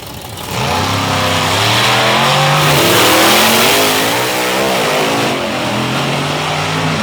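Monster trucks weighing about 10,000 pounds launching off a drag race starting line at a monster truck event: loud roaring engines rising and revving hard together, with broad rumbling noise sustained throughout.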